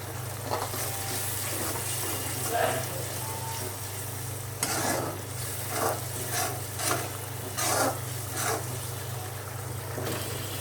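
Potatoes and spices with coriander powder sauté in oil in a pan, a steady low sizzle broken by several scraping stirs of a spatula, close and moderately quiet, with no talking.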